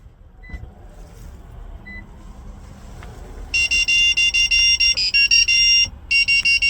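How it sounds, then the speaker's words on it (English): Confirmation beeps from a 2016-2018 Lexus RC 300 after key fob programming with the push-to-start button: a run of loud, steady high-pitched beeps, roughly a dozen in quick succession with brief gaps, after a few quiet seconds. "wait for a few seconds until you hear the beeping sound indicating programming is successful"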